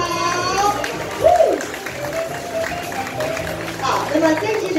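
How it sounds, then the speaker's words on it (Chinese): Applause from an audience at the LG Signature launch event in Taiwan, spread through the clip as a steady patter with a brief swell, mixed under a presenter's voice and background music. "我们要用最热情的掌声"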